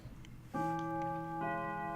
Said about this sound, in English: There it is. The clock.